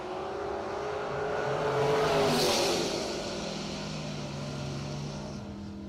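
Drag race cars, a Dodge Dart Swinger called the Red Bullet and a 1995 Camaro, at a radial drag racing event, roaring loud and steady with a swelling peak of engine noise midway through a pass.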